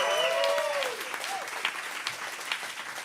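Audience applause for performer Darius Bennett at an evening stage show, a steady wash of clapping from a crowd that holds through the whole stretch, with a high whistle-like tone sliding over the start.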